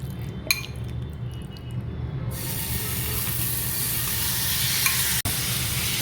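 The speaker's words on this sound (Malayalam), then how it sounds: "അതിലേക്ക് നമ്മൾ മാരിനേറ്റ് ചെയ്തതായ ആ ചിക്കന് ഇട്ട് ഒന്ന് റോസ്റ്റ് ചെയ്തെടുക്കുക." Marinated chicken roasting in oil in a pan, a steady loud sizzle that swells after a couple of seconds, with a few light clinks of a utensil against the pan and no talking.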